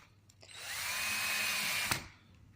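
A power drill driving a screw into wood whirs for about a second and a half, rising and holding a steady whine before stopping with a sharp click.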